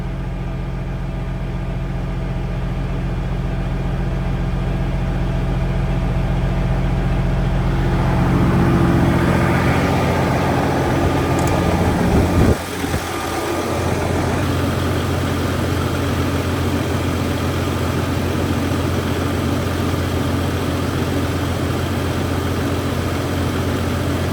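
A Peterbilt 389 truck's heavy diesel engine idles steadily up close, a deep continuous rumble that shifts character partway through with a brief clunk, then settles into an even drone.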